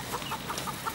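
Chickens clucking as they run away, a quick series of four or five short, soft clucks in a brief burst with no voices over them.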